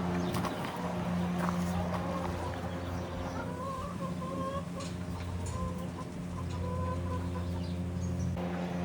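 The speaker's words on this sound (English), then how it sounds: "Right now we have like 18 chickens." A free-range flock of about eighteen chickens clucks in scattered bursts over a steady low background hum. The calls sound moderately close, and no one speaks.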